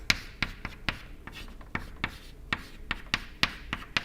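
A lecturer writes an equation on a board, producing a run of sharp, irregular taps and scratchy strokes, close and fairly crisp, with brief gaps between marks.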